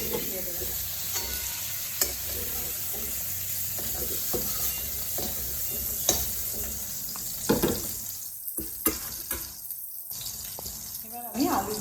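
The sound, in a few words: stirring chicken curry frying in a pan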